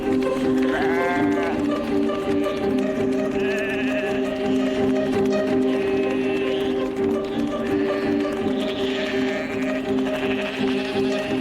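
Sheep rounded up from a beach into pens bleat repeatedly over a steady outdoor background.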